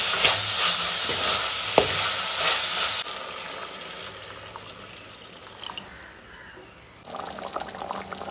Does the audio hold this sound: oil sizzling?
yes